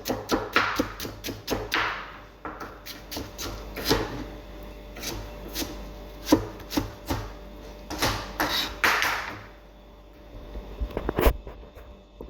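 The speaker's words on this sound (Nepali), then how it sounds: "काटेर मसिनो गरेर काट्छु यसलाई पनि मैले" A knife chopping tomatoes finely on a board, with a series of close, sharp taps in quick uneven bursts and brief pauses between runs, no talking.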